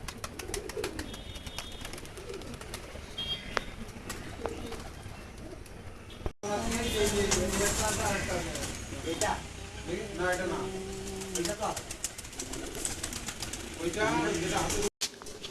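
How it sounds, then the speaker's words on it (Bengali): Pigeons coo repeatedly nearby in low, throaty bursts, with someone talking over them for much of the time. "দেখো বন্ধুরা আরেক সেট পায়রা নিয়ে এসেছি"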